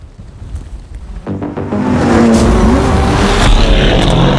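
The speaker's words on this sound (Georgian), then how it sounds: "ეს არის 700 ცხენის ძალა, რომელიც მიმაგრებულია უკანა წამყვან ავტომობილზე" A 700 hp rear-wheel-drive Porsche 911 GT2 RS on a race track approaches and roars loudly past, its engine swelling from a distant hum into a sustained, close, high-revving drone.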